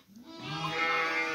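Sheep and their lambs bleat inside a barn pen, a dense overlapping chorus of several animals that swells from a thin start to a steady, fairly loud wavering cry.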